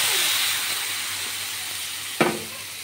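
Banana stem hits hot oil already fried with white mustard seeds and dry chilli, giving a steady hiss of sizzling with a brief louder burst of spitting near the end; no one speaks.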